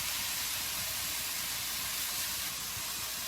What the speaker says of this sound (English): I'm just browning the beef.